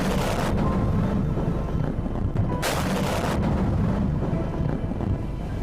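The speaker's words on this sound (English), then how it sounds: "the footage from a nearby parking lot shows just how massive this explosion was" A massive building demolition explosion roars into a sustained, rumbling blast with wind-buffeted low-end booms, continuous and loud throughout, no voices.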